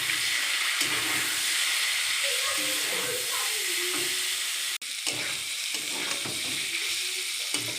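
Vegetables frying in a pan with cumin, bay leaf and ground spices, a steady loud sizzle across the whole stretch with brief stirring scrapes, a short break near the end, and a voice speaking faintly underneath.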